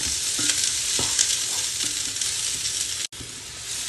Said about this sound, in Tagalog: Una natin ilagay ang sibuyas o sibulya.